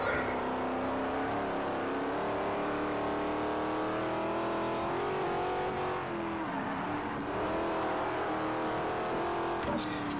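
An engine drones loud and steady while a car is driven in Forza Horizon, its pitch rising and dipping with revving, plus brief tire noise.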